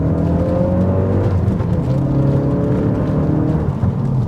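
A steady, loud engine drone with a constant pitch from an all-wheel-drive Ford Focus RS at speed turning into a corner, close and continuous, without any talk.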